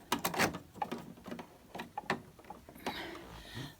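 Fine liner pen slotted into a holder and fitted into a craft drawing machine, a run of close plastic clicks, snaps and knocks with brief sliding rattles.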